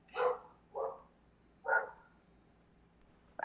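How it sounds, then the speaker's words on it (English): A dog named Arlo barks at package deliveries, three separate sharp barks spaced about a second apart, with a fourth bark starting at the very end, fairly close and clear against a quiet room. "You're about to hear Arlo barking because I think people are being delivered packages like crazy"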